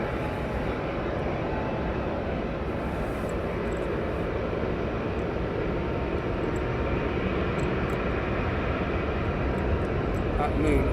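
A jet airliner rolls down the runway for takeoff at East Midlands Airport on a misty night, its engines producing a steady, loud broadband roar that holds constant throughout and builds slightly toward the end.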